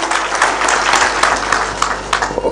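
A crowd at a funeral gathering in Kenya claps in a brief burst of applause, a dense patter of many hands at fairly close range.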